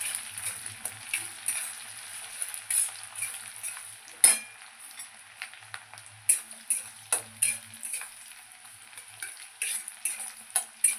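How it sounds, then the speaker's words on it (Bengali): Onions fry in mustard oil in a pan with cumin, bay leaves and whole garam masala, giving a steady high sizzle punctuated by stirring scrapes and light utensil clinks against the pan. "পেঁয়াজটা একটু ভালো করে ভাজা হবে।"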